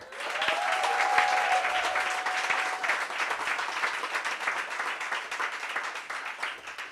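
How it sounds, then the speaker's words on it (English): An audience at a workshop gives a sustained round of applause, dense clapping that swells quickly and then holds steady before slowly thinning, fairly close and filling the room. "Can we give those that pitch a round of applause?"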